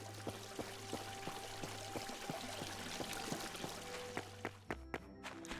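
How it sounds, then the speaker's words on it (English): Continuous rushing water from a waterfall in the video game My Time at Portia, a steady broadband roar with faint tonal game music and soft clicks layered over it. "it's the waterfall again"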